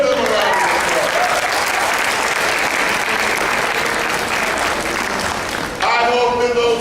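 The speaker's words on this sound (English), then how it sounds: "Give them a round of applause." Graduates at a graduation ceremony receive sustained, dense applause from a large crowd, steady and full for several seconds before it briefly eases and a voice begins speaking near the end.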